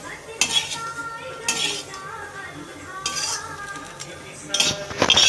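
A spoon stirs and scrapes ingredients roasting in a metal pan over a flame, with occasional clinks and scraping strokes over a quiet background and faint sizzling.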